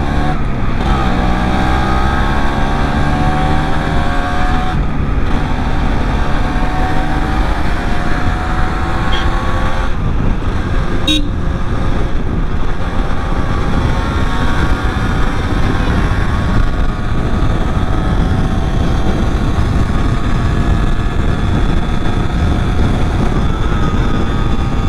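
Yamaha RX135 five-speed two-stroke motorcycle, restored, ridden along the NH7 main road with no disc brakes. The engine note is loud and close, with buzzing rev sweeps that rise and fall through the gears over constant road and wind rumble.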